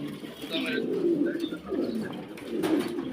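Pigeons at a pigeon farm coo softly and repeatedly at close range, their low throaty calls rising and falling over a few seconds.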